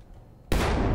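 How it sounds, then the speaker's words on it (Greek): A grenade goes off in the Battlefield 1 video game, a sudden loud blast that bursts in after a quiet moment and keeps roaring as a thick, sustained rumble. "Όπα, grenade."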